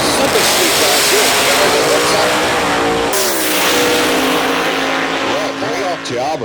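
A drag racing car launches and accelerates down the strip, its loud roaring engine filling the air continuously while an announcer talks over it.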